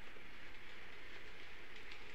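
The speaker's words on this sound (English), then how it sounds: "So here comes that exact same train" Model railway train running along the track of a layout, a steady faint rolling rumble with a soft continuous rattle, heard alone with no talk.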